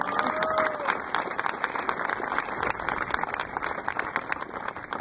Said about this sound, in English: How about a big round of applause for her?